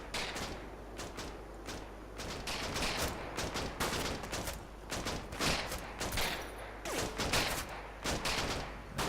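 Dense, continuous rifle and machine-gun fire from the World War II strategy game Combat Mission: Battle for Normandy, rapid overlapping bursts and shots over a constant low rumble, loud and close throughout.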